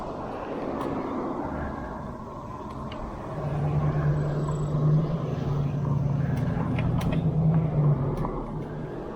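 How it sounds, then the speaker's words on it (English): Cars passing on a road while riding an electric bike through the town of Grafton, West Virginia, heard as a steady engine and tire rumble that swells and holds over outdoor wind noise. "And some cars are coming."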